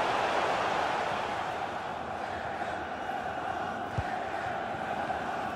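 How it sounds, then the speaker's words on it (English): Stadium crowd noise from a FIFA 21 match between SV Werder Bremen and Borussia Mönchengladbach: a steady, dense roar of fans urging their team on, loud and continuous throughout. "Just listen to the crowd, Derek, urging their team on"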